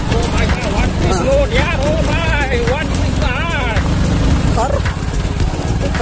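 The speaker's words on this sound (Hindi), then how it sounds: "बाइकको आवाज सुन्नु पहिला बाइकको आवाज" A motorcycle engine labors while climbing an uphill road, its low, steady rumble running under loud, continuous talking.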